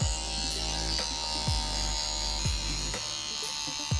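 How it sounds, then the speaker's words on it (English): An electric beard trimmer buzzes steadily and close while trimming neck hairs, with soft clicks and thumps at roughly half-second intervals over the constant hum. "I'm gonna go in there with a little trimmer"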